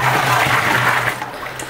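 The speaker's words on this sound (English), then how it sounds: "So we pour water here" Water pours steadily into a 100-liter distillation vapor generator used for extracting rosemary essential oil and hydrosol, a continuous close gushing rush that holds for nearly two seconds before easing slightly.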